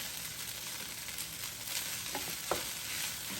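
Garlic fried rice stirred in a frying pan, a steady soft sizzle with faint scraping and a couple of light utensil taps, no talking.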